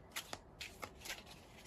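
A deck of angel number oracle cards is shuffled in several quick riffling bursts, close and crisp, spaced unevenly across the moment with no speech.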